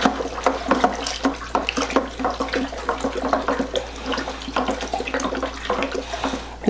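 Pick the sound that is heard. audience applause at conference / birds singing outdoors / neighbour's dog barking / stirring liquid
stirring liquid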